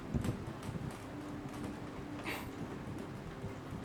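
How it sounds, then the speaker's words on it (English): Steady rain hisses over a low, continuous rumble like distant rolling thunder at night, with one brief brighter swell midway; no voices. "the rolling thunder that echoes into the night"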